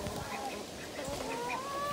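Geese honk repeatedly in the background, several calls overlapping in a noisy outdoor setting, fairly faint and steady throughout.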